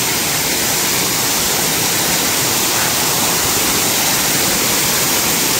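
Kurdkot waterfall in Deogarh pours in a steady, loud, broadband roar of falling water, close and continuous with no voices over it.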